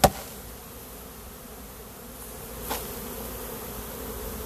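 A dense, steady buzz of many honeybees around a hive frame fills the air close by, with a brief knock at the start and no talking.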